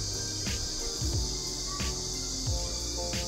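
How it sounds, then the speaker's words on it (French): A cicada gives a steady, high-pitched buzzing drone that holds without pause over a busy outdoor background. "Comment faire taire une cigale?"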